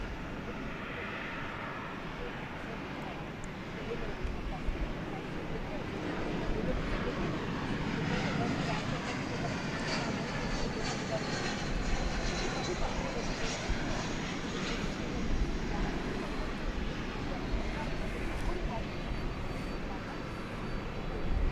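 A three-year-old UPS Boeing 767 jet at DFW Airport at night produces a steady engine roar with a rising whine, heard at moderate distance under continuous background noise, with a voice talking over it.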